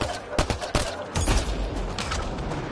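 Sharp gunshots from a Mass Effect Andromeda firefight crack out in several close, irregular bursts, with sustained combat noise filling the gaps between shots.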